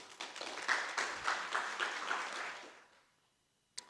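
Audience applause at a climate adaptation meeting, moderate and fairly close for about two and a half seconds before fading to silence, followed by a single sharp knock.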